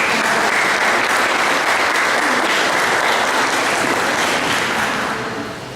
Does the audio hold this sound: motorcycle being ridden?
no